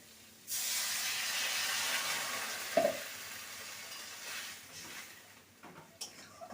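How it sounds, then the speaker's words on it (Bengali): Water is poured into a hot pan of cauliflower stems being cooked as a vegetarian chorchori, setting off a loud, steady hiss and sizzle with one brief clatter midway, then gradually easing toward the end. "এবার দিয়ে দেবো পরিমাণ মতন জল"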